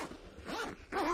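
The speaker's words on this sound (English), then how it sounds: "I can see a zip here, so I'm guessing it's tucked in this part of the hood" A zip is pulled open on the hood of a Nuna pushchair car seat, producing a short rasping run of zipper teeth close up over about a second.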